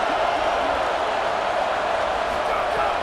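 Dense, steady roar of a large stadium crowd in a college football video game, loud and continuous throughout with no breaks.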